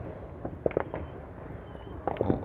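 Fireworks bursting around the listener on a festive night, scattered sharp pops and crackles in two clusters over a low steady background, moderately distant and without talk.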